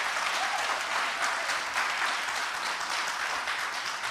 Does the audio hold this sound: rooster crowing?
no